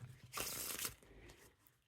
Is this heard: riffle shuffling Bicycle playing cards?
yes